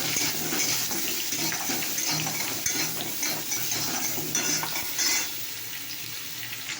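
Potatoes and pointed gourd sizzle steadily in a pan while being stirred and salted, with a spatula scraping and clinking close up throughout, no talking.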